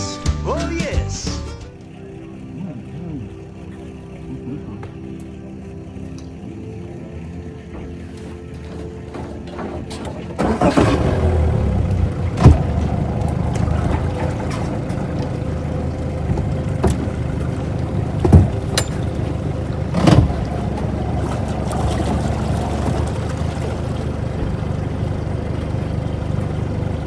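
Small fishing boat outboard motor idling quietly at first, then throttling up to a louder, steady drone with water slapping against the hull, running close throughout.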